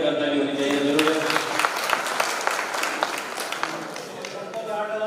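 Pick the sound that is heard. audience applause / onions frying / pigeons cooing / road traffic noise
audience applause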